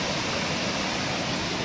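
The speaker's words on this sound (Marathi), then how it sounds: "हा पालघरमध्ये फेमस असलेला हा नांद धबधबा आहे." Nand waterfall in Palghar roars as a steady, dense broadband rush of falling water, loud and unbroken, with no voices.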